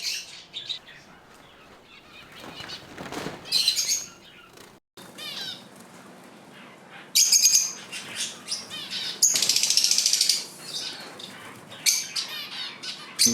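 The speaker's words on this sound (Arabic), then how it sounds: "ومعهم هدول العصافير اسمهم عصافير الجنة." Small caged birds known as birds of paradise, kept in a private animal collection in Qobayat, Akkar, chirp and tweet in busy bursts, with brighter, louder flurries toward the middle and end and brief quieter gaps, with no voices heard.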